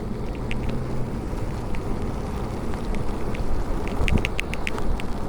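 Wind-blown rain on a cold, blustery day, a steady broadband wash of falling rain and gusting wind close by, with a few brief sharp ticks toward the end.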